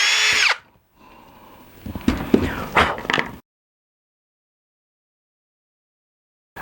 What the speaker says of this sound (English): I can just quickly take the drill and drill a hole in each of these spots